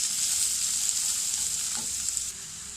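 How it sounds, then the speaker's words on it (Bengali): Chopped garlic and onion frying in a pan for chicken chow mein, a steady close hiss of sizzling oil with a faint scrape of stirring partway through, no voices. "রসুন ও পেঁয়াজ ভালো মতো ভেজে নেব।"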